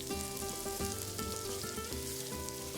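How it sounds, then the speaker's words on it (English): Onions and garlic brown in fresh rendered pork lard over medium heat, giving a steady, dense sizzle that continues throughout beneath soft background music. "I like to use fresh rendered pork lard to brown the onions and garlic over medium heat"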